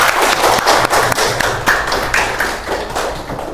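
A classroom of pupils breaks into applause for a correct answer, with dense, steady hand clapping from many children filling the room for a few seconds.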